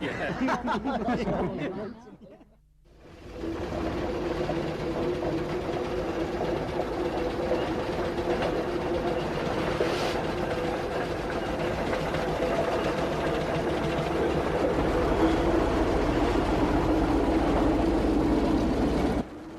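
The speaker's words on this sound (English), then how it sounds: "Fred often takes his 1912 Aveling and Porter road roller to traction engine rallies" A 1912 Aveling and Porter steam road roller runs along a road with a steady low chuffing and rumbling mechanical clatter, fairly close and continuous, after a short stretch of someone talking.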